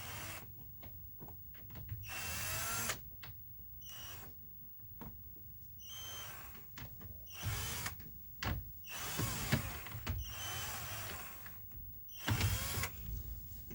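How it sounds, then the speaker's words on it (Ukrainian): Torx T15 screwdriver work on a Sandero dashboard while removing two self-tapping screws, with irregular close clicks, creaks and plastic rattles in quick bursts, fairly faint overall. "Треба відкрутити два саморези."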